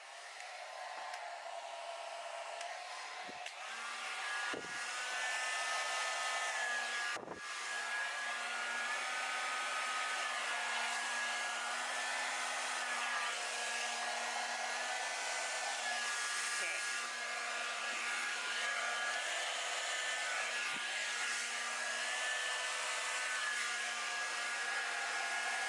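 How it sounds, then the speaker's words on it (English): A blow dryer on its low setting runs continuously over wet acrylic pour paint, a steady whirring hum close by with a few brief knocks and handling sounds, and no speech. "And get my blow dryer. Not sure if it's going to work on low."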